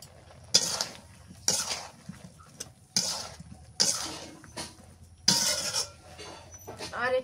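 Ridge gourd added to a pot of boiled lentils, with a few distinct clattering clanks of utensil on pot spaced about a second apart, between quieter stretches, nearby.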